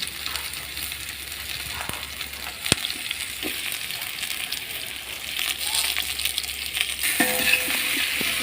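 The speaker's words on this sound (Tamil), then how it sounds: "இது நல்லா பொன்னிறமாக வதங்குற அளவுக்கு வதக்குவோம்." Onions and green chillies sauté in hot oil for chicken biryani, a steady broad sizzle with a single sharp metallic clink partway through and the frying growing a little louder toward the end.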